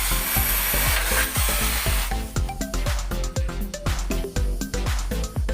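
Hand riveter fastening rivets into a steel hollow frame for a mini kitchen set, sharp repeated metallic clicks and snaps in quick succession, close and fairly loud.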